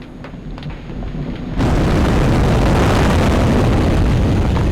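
Explosions in the dinosaur video game Area D, a sudden loud blast that jumps into a sustained roaring rumble and stays harsh and heavy to the end.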